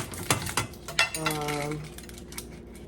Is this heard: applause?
no